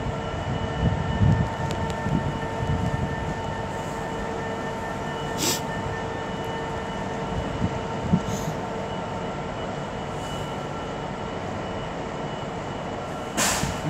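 A Class 390 Avanti West Coast electric train at Rugby on the West Coast Main Line starts to depart for London Euston, a steady hum and rumble with sustained tones and occasional clanks and squeals.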